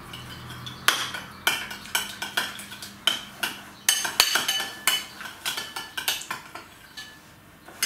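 A spoon mixes homemade burger sauce with mustard in a bowl, clinking and scraping against the sides in a quick, steady rhythm of bright metallic taps, close and clear with no voices.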